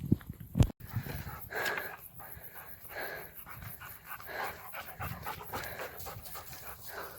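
A dog pants steadily and rhythmically close by on a hot morning along the GR 65 pilgrimage trail in France, with quick repeated breaths and a few snorts over a soft outdoor background.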